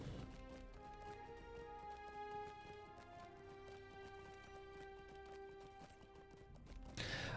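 Hooves of a horse galloping in the Lord of the Rings Online game, a steady fast clip-clop rhythm over layered sustained game music tones, fairly even in level, with a louder burst at the very end.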